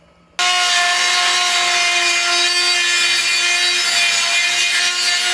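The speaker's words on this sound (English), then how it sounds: "So I'm going to Dremel out a hole up here just for my fan to fit." A Dremel rotary tool cuts a hole in a computer case to clear a fan, a loud, steady high-pitched grinding whine that starts abruptly and runs without a break.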